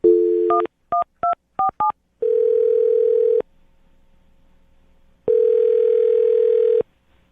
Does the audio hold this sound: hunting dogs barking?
no